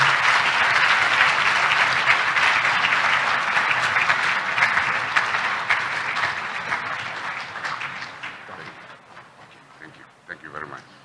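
Audience applause at an official launch event welcoming the council chairman, a loud, dense burst of clapping that holds steady and then gradually thins and fades toward the end.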